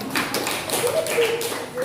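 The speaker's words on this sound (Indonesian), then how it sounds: "Oke, tepuk tangan untuk" Students clap in a classroom, with a burst of short, scattered hand claps mixed into steady, close speech.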